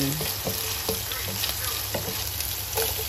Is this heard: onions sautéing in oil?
yes